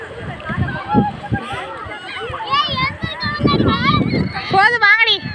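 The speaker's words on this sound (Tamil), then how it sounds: "கடல்ல ஒரு பிள்ளை நீச்சல் அடிச்சிட்டு இருக்கு" A child swims in the sea at Karaikal Beach, making repeated splashing and sloshing sounds beneath loud, close children's voices that keep talking and calling out throughout.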